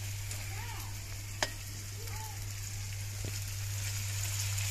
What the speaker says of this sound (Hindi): तो जी अब डालेंगे प्याज, इनको जो है अच्छे से भून लेंगे।